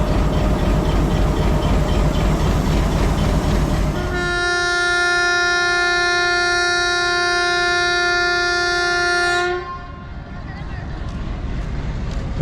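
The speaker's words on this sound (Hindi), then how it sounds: "तो ये ठीक 12:50 पे डिपार्चर हॉर्न हो गया 18 डाउन का।" A train departure horn at Sargodha Junction station sounds one long, steady, loud blast for about five seconds over station background noise, then cuts off abruptly.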